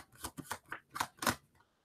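Tarot cards shuffled by hand, a run of five or six crisp papery riffling bursts in quick, uneven succession, close and moderately loud, tailing off into quiet.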